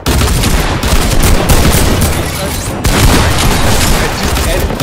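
Dense, continuous gunfire and explosions from a Fortnite match, loud and unbroken with a brief dip midway; a sniper shot is buried in the clamor.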